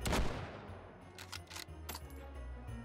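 Old rifle gunfire in the VR shooter Hot Dogs, Horseshoes & Hand Grenades, a loud initial shot followed by several quieter cracks and metallic clicks from handling the weapon, scattered over about three seconds.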